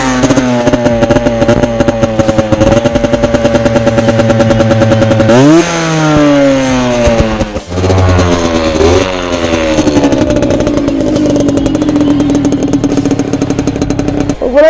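A 50cc moped engine revs hard through an aftermarket exhaust pipe, its loud buzzing note climbing and dropping through several throttle blips, close by and with no voices.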